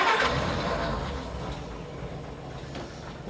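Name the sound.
old truck engine cranking and starting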